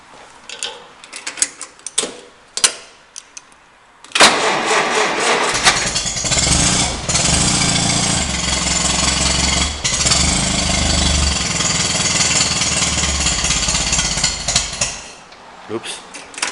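A Toro Whirlwind riding mower engine cranks with a few short attempts, then catches and runs loud and steady close by for about ten seconds before cutting off.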